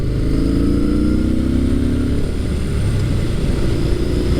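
A Yamaha SCR950 scrambler motorcycle's engine drones loudly and steadily while riding, with a brief rising pitch as it pulls.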